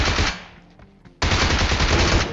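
Automatic rifle fire in a mobile shooter video game rattles out in two loud, rapid bursts separated by a short pause.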